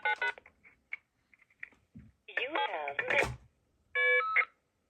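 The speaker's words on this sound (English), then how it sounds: "we'll hear the FSK voicemail off tone" UK FSK voicemail indication tones on a telephone line: a mix of short beeps, warbling data bursts and a steady half-second tone near the end, separated by near silence.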